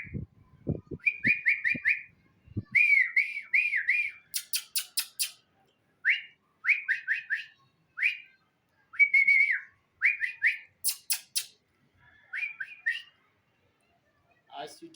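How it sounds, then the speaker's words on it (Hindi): A person whistles repeatedly in short trilling bursts and steady tones to call trained pigeons, the whistles loud and close, with a few thumps and faint background noises between phrases. "अभी मैं विसल बजाऊंगा और विसल के साथ आप लोगों ने इसको देखना है।"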